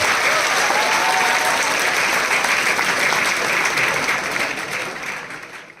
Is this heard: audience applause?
yes